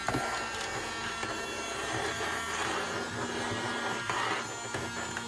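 A small $5 handheld vacuum cleaner runs steadily, sucking up debris, with a constant motor whine and rattling pickup noises throughout, fairly close and with no talk.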